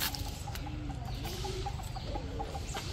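A rooster at a Thai temple gives soft, scattered clucks and low calls over steady outdoor background noise, fairly faint and at some distance.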